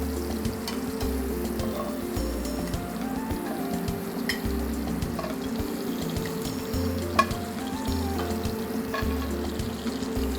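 Shrimp fry and sizzle in a hot pan in a seafood chef's kitchen: a continuous, close crackling hiss with faint bubbling and occasional soft stirring clinks.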